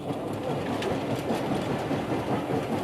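A steam locomotive running on a railway in China, its steady rumbling roll and rhythmic rail clatter continuing evenly and fairly close, with no voices.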